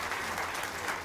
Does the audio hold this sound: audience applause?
yes